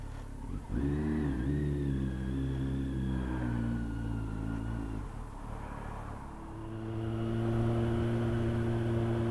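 A repaired motorcycle engine idles and pulls away under a steady rev, its low harmonic drone holding close and loud, then dropping into rushing wind and road noise as the bike rides off.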